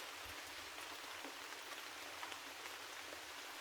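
Soft, steady rain patters continuously, a gentle even hiss of drops with no voices.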